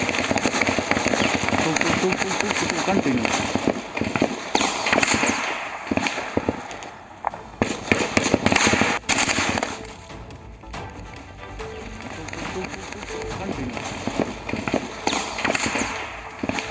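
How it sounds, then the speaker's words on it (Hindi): Heavy gunfire rings out during a security-force encounter with militants in Baramulla, Kashmir, as dense, continuous cracks and bursts from a nearby firefight, with a voice heard briefly. "गोलियों की आवाज आप साफ सुन सकते हैं"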